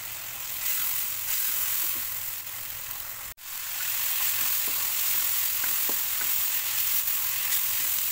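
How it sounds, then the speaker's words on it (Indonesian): Spice paste sizzles and fries with lemongrass, lime leaves and bay leaves in a pan, a steady bright hiss that breaks off for a moment partway through before resuming, with no talk. "Masak hingga bumbunya matang dan wangi"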